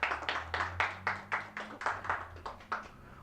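A church congregation claps for the Lord in a brisk, uneven burst of about a dozen quick claps, moderately close and fading slightly toward the end.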